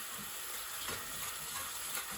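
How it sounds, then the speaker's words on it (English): Spices sizzling steadily in a hot pan with base gravy for garlic chilli chicken masala, a continuous close frying hiss with faint stirring scrapes, no talking. "Cook the spices really well. Add a tiny bit of base gravy."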